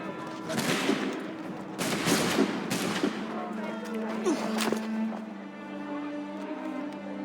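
A musket volley rings out in Assassin's Creed 3: several sharp, loud bursts of gunfire in quick succession, with a shouted command and other voices around them before the din settles into lower rumbling.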